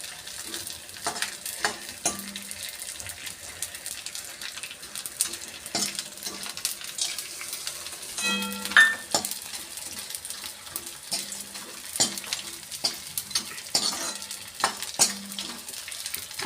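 Edible gum fries and puffs in hot ghee in a wok, a soft continuous sizzle punctuated by repeated scrapes and clinks of a stirring spoon against the metal pan. No voices are heard.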